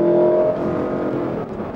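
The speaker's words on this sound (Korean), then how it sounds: "엔진 사운드 참 재미있죠. 사운드 제너레이터 효과죠." A Lexus LC 500 convertible with a naturally aspirated 477-hp engine and 10-speed automatic accelerates hard, its engine note rising loudly and then easing, heard close from inside the car.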